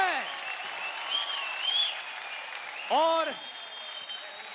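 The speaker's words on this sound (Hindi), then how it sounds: "और एक जोरदार तालियां" Applause from the audience on a televised Indian singing competition stage fills the clip as a steady crowd wash, with the host's amplified voice speaking over it and a louder swell near the end.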